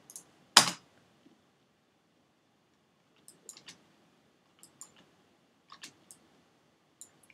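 Sparse, faint typing on a computer keyboard, a few soft key taps spread out with one louder click near the start, against a quiet background.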